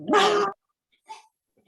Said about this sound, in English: Sorry, my dog keeps barking.